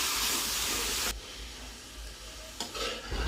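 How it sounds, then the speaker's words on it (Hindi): Roughly 1.5 to 2 kg of chicken sizzling in a pot, with a loud, dense crackling hiss for the first second that drops to a quieter, steady fry with a few stirring bursts. "अब मैं इसे अच्छी तरह फ्राई कर लूँगी।"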